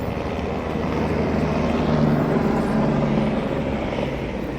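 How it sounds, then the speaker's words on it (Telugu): A helicopter flies near Kedarnath in the mountains on one of its repeated shuttle trips, giving a steady, continuous rotor and engine drone that stays fairly loud throughout with no talking. "హెలికాప్టర్ మాత్రం 100 ట్రిప్పులు కొడుతున్నట్టుంది ఫ్రెండ్స్."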